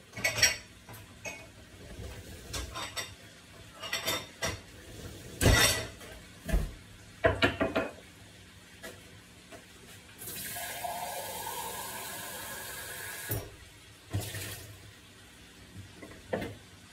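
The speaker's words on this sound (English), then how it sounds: "like after I wash the cups" Cups are washed in a kitchen sink: scattered clinks and knocks of crockery, then a few seconds of running tap water, ending with more dish clatter.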